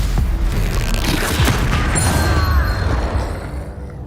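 A Confringo fire spell explodes in Hogwarts Legacy, a loud, heavy booming blast with crackling debris that rumbles on and slowly fades, no voices over it.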